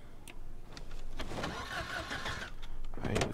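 A Chevrolet Dart in the zombie survival game Project Zomboid cranks with a few short starter bursts, then catches and settles into a mid-pitched running engine, fairly quiet overall.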